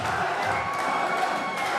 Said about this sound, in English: The crowd are going wild. And the French crowd are on their feet.